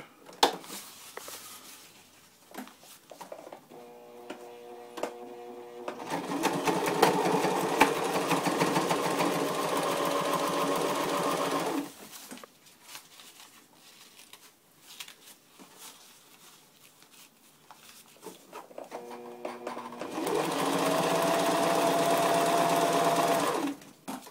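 A sewing machine stitching the cord channel of a fabric stuff sack, running in two long steady bursts of rapid mechanical stitching separated by quieter handling and fabric rustling.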